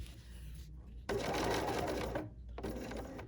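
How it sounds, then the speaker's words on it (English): A sewing machine over-sewing the edge of a fabric wishing tree ornament, running in two bursts with a short pause between, loud and close with a steady mechanical whir. "I'm going to over sew a little bit, just so my little holder doesn't come out."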